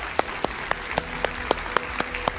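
Studio audience at a Hindi political TV debate clapping in unison, sharp evenly spaced claps roughly four per second over low room hum.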